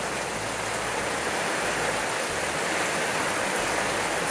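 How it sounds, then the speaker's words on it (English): Heavy rain falling through a thunderstorm at a Mississippi coast campsite, an even, loud rushing wash of drops close by with no break across the few seconds. "Oh yeah, we got us a little rain going on."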